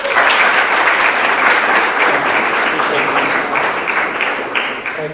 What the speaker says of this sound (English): please now give a round of applause for Pavel